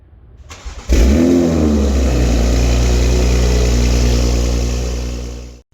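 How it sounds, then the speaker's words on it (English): A loud modified car engine cranks and fires up near one second, then revs and holds a strong, steady roar close by for several seconds before cutting off. "Let's hear this car start."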